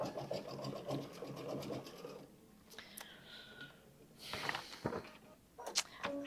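A sewing machine stitching a small snowflake design, faint rapid mechanical whirring in bursts with short pauses between runs, fairly quiet and close.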